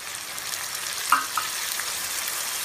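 Tomato and ground shallots tossed into softened onions for a country chicken gravy, giving a soft continuous sizzle with a couple of brief clinks from stirring, fairly quiet and close.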